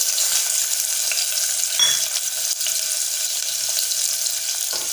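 Medium onion, sliced lengthwise, dropped into hot oil in a pan for tempering, giving a loud, steady close-up sizzle with a brief clink partway through.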